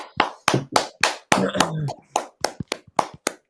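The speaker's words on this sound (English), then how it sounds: "I'd like to give both Finley Trask and Truro City a massive round of applause" A few sharp, separate hand claps ring out close and loud, a sparse, irregular round of applause rather than a large crowd, with a short vocal murmur in the middle.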